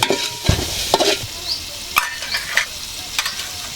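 Garlic and ginger paste frying in a pan while being stirred, with repeated sharp scrapes and clacks of a spoon over a constant close sizzle.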